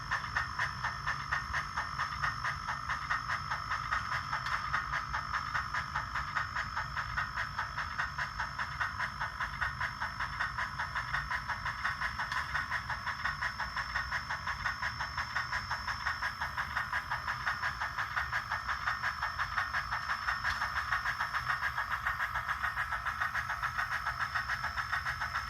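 Bachmann On30 scale Climax geared model locomotive running on track with DCC sound, giving a steady rhythmic chuffing and hissing steam exhaust that stays even and moderately quiet with no talk.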